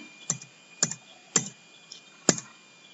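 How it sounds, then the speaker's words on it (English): Keystrokes on a computer keyboard during accounting data entry, four distinct clicks spaced about half a second apart, close and fairly quiet with no talking. "Then type the narration, later save. Press Y from the keyboard."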